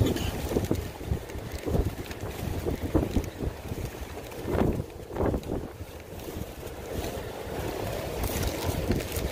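Strong cold wind gusts across an open fishing spot by the water, roaring and buffeting the microphone in uneven surges throughout, with no other clear sounds.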